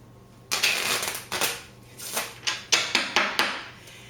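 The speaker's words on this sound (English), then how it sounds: "You take the deck of cards that's included, and you give it a shuffle." Cards riffled and bridged in a shuffle, with bursts of crisp flapping and several quick snapping riffles in succession, close up.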